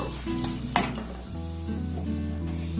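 A sweet chhena mixture is stirred in a kadai on the stove. Soft sizzling runs throughout, with a spoon scraping against the metal pan and one sharp clink near the start.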